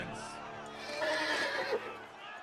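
A horse in the Game of Thrones video game gives a clear, fairly loud whinny, its rising, wavering call standing alone over faint background noise.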